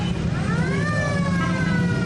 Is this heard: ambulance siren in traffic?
yes